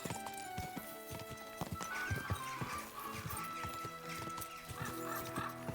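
A horse gallops in the medieval video game Kingdom Come: Deliverance II, with rapid, loud, rhythmic hoofbeats that run the whole way through and a whinny over them.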